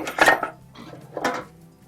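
A utensil scrapes and clinks against a metal pot while a blended mixture is stirred in, in two short bursts close by, with no talking.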